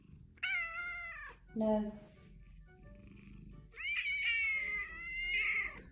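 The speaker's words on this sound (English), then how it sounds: "When a cat meows like this, it means they're feeling really lonely." A cat meows loudly several times in drawn-out, wailing cries, with a lower, throatier yowl between them, and a person speaks briefly.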